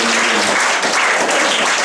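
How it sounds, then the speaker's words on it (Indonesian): Church congregation applauding in praise of God during an Indonesian worship service, a steady, dense wash of clapping from many hands filling the whole short stretch at close range. "Tepuk tangan bagi Tuhan"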